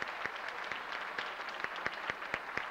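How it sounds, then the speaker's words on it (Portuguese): Audience applause for tuba and trumpet players at a brass band performance: steady, fairly quiet clapping from a small crowd with sharper individual claps standing out, no voices. "Uma salva de palmas para estes nossos amigos que aqui vieram mostrar a tuba e o trompete."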